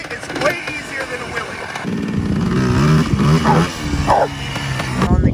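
A Yamaha Blaster ATV engine revs and bogs under throttle during a wheelie attempt, loud and close, with the engine note rising and dropping while people talk and shout nearby.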